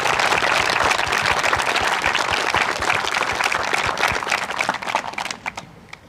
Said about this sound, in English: Big round of applause for both teams.